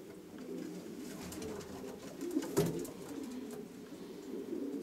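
Racing pigeons coo inside a breeding loft, a soft continuous low murmur of several birds with a slightly louder burst midway, no voices over it.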